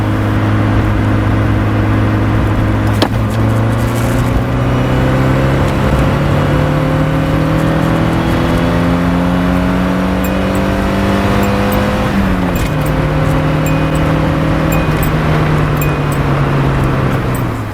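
A Toyota AE86 with a five-speed manual revs loudly in third gear, steadily climbing in pitch as it accelerates, with one brief dip around a gear change, then keeps pulling.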